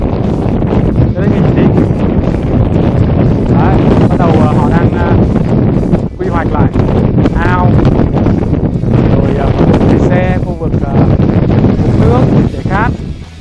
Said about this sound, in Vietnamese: Gió